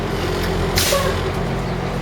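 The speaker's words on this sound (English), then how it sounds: "I'm going to release some air pressure, pump it down to approximately 90 psi or below." A bus air brake system releasing pressure: a sharp, loud burst of hissing air, heard close, against a steady idling engine rumble.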